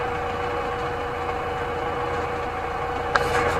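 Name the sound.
JCB 3DX Eco Xpert backhoe engine idling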